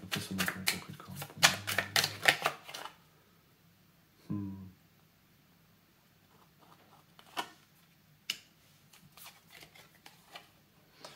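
Tarot cards being shuffled, a rapid burst of riffling clicks up front, then a lone soft thump and scattered light taps as cards are set down in a quiet room.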